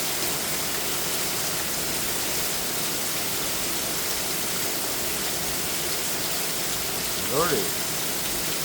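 Heavy rain pours down like a waterfall during a storm in Chandler, Arizona, a dense, constant roar of water close by, with a brief spoken exclamation near the end.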